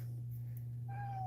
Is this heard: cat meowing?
yes